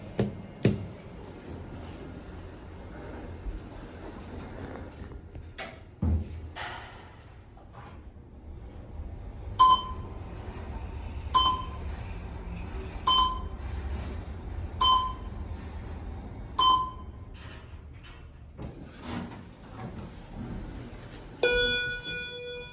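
The Schindler 500A traction elevator in a parking garage at Moody Gardens sounds its stuck chime as a steady run of evenly spaced single tones, surrounded by door clunks, knocks and low machinery rumble.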